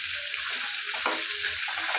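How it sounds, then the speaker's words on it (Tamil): Tomatoes sautéing in a pan for chutney, a steady bright sizzle with soft stirring scrapes and a brief louder stir partway, no talking. "தக்காளி ஆட் பண்ணிட்டு நல்லா வதக்கி விடுங்க."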